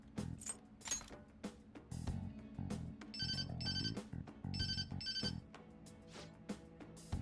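A phone rings in the video game Persona 5 Royal: two clear bursts of electronic ringtone trill over busy in-game music and background sounds.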